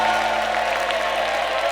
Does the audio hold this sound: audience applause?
yes